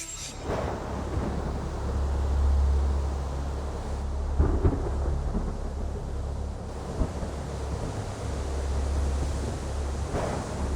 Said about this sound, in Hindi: घर उड़ा देने वाला बहुत तेज तूफान आ रहा है